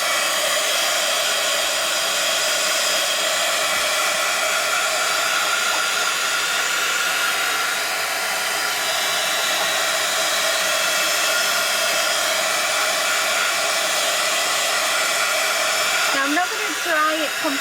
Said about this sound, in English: So let's put the heat gun on,